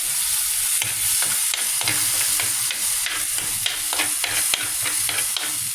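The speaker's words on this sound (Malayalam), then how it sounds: "ഇളക്കി കൊടുക്കണം." Fish masala paste fries in oil in a pan with a steady close sizzle, while a spoon scrapes and stirs it in repeated irregular strokes.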